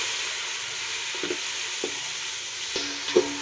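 Puffed rice for mirchi mandakki, with chopped green chillies and coriander, is stirred with a ladle in a pan: soft steady rustling and sizzling, broken by a few light ladle knocks that grow more frequent toward the end.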